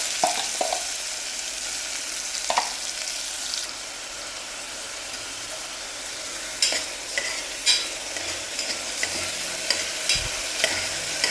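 Chopped onion, green chili, garlic and ginger sautéing in a pan, a steady close sizzle broken by scraping spatula strokes and occasional clinks against the pan.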